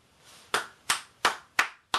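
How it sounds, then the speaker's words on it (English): Five sharp hand claps at a steady, slightly slow rhythm, close and loud against a quiet room, with no speech. "Gave you a round of applause."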